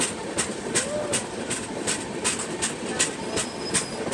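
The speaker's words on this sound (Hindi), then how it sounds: "वही अभी सेवाग्राम रेलवे स्टेशन पे हम लोग ओवरटेक मार रहे हैं बरौनी एर्नाकुलम एक्सप्रेस, राप्ती सागर एक्सप्रेस को।" Seen from inside a 3AC coach, the Chennai Duronto Express runs at speed past Sevagram railway station while overtaking the Barauni–Ernakulam and Raptisagar express trains, with steady rhythmic clickety-clack wheel beats over a continuous rolling rumble and a faint wheel squeal.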